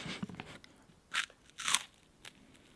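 Close, crisp crunching of Garfitos cheese puff snacks, similar to Wotsits: a few quick bites followed by three distinct loud crunches, each sharp and short, with quiet gaps between them.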